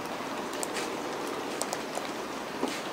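Rain falling outdoors makes a steady, dense hiss, with a few sharper drops ticking through it at an even, moderate loudness and no voices.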